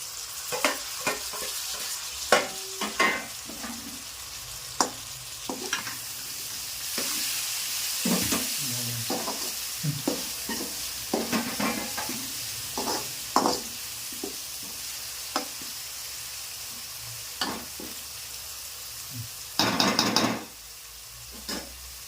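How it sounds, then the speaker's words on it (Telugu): Tomatoes fry in hot oil tempering for a tuna fish curry, a steady close sizzle running throughout, punctuated by repeated scraping and tapping of a stirring spoon against the pan, with no talking. "తాలింపు మంచిగా కదా అయిన తర్వాత ఇప్పుడు టమాటాలు వేసుకోవాలి"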